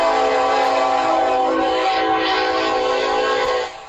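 A loud, sustained train whistle blasts steadily for a few seconds, rich and droning, then cuts off abruptly at the end.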